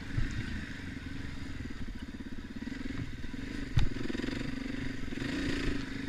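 A dirt bike motorcycle is ridden over hills, its engine droning steadily near the rider with clattering and crackling from the terrain and a brief sharp bump partway through as the bike hops.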